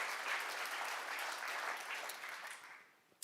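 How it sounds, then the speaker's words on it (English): Crowd applause at an economics conference humor session, a dense, even roar of many clapping hands that holds steady and then tapers off toward the end. "Give yourselves a round of applause."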